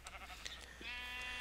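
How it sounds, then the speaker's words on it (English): Minecraft sheep bleating once, a wavering drawn-out bleat following faint soft game clicks and rustles, close and clear. "And here's a sheep."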